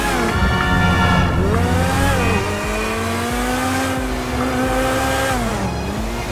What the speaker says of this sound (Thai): นี่คือเสียงรถนะฮะ